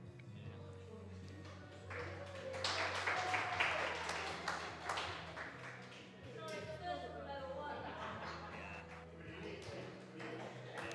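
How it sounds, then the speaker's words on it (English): Sporting round of applause at a live skittles match in a pub setting, clapping from a crowd swelling and lasting throughout, mixed with chatter and voices nearby. "A sporting and sympathetic round of applause"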